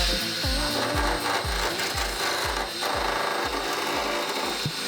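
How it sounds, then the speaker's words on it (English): A drill-driven wire brush rasps steadily against a van's rusty metal, its grinding scrape pulsing in a regular rhythm of about two strokes per second, loud and close. "how to use this little rust brush, if you will, attached to the drill"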